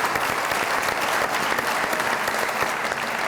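A studio audience at a comedy show claps in a dense, even wash of applause that holds at a steady level for the whole few seconds.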